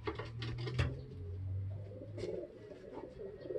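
Racing pigeons cooing steadily in Llanera, Nueva Ecija, a low rolling coo repeating through the whole stretch, fairly close, with faint background noise and no voices.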